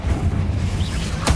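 A Confringo fire spell bursts in the game Hogwarts Legacy with a single short, sharp blast near the end, cutting through a steady low rumble of in-game ambience.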